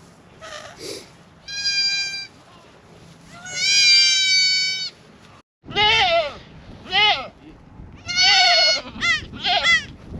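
Goats and newborn kids bleat repeatedly at a birthing pen where first-time mothers are kidding, loud and close, with high-pitched cries overlapping in irregular bursts.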